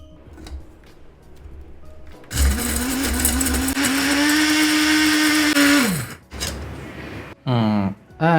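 Dried apple pieces being ground in a blender-type grinder for espresso: a loud, steady whirring motor burst of about four seconds that winds down, followed by shorter grinding pulses.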